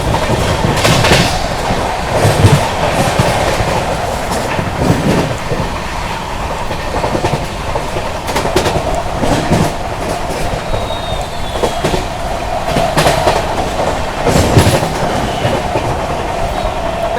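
The New Delhi–Gaya Mahabodhi Express runs through Firozabad station without stopping, its wheels keeping up a steady, loud clickety-clack over the rails and joints, with a brief high squeal partway through and no voices.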